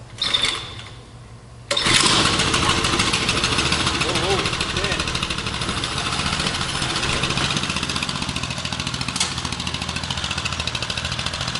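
A 1972 Rupp Hustler snowmobile engine sputters briefly, then catches and runs at a steady, fairly loud rough idle, with people talking over it.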